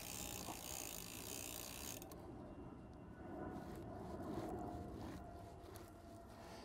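Bicycle cranks turning backward while lubricant goes on the chain, giving a faint, steady freewheel ratchet ticking over low background noise with no talking.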